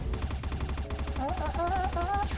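Gunfire from the mobile shooter CF Mobile (CrossFire), with rapid automatic bursts pulsing steadily under game music and effects, loud and continuous across the short stretch.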